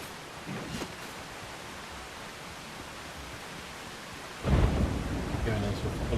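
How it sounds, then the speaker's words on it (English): Stormy weather in the pirate survival game Windrose: steady rain hiss throughout, with a deep, loud thunder rumble rolling in near the end and lingering. "Going into a full-on storm."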